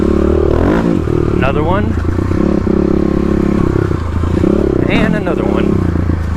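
A Stage 3 Kawasaki KLX351 dirt bike runs close by on Oregon forest trails, its engine droning steadily with a couple of brief rising revs, while a rider talks over it.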